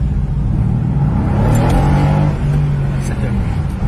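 Mercedes-AMG GT exhaust roaring as it revs, a loud rumbling low engine growl swelling and easing over a few seconds, heard close with people talking over it.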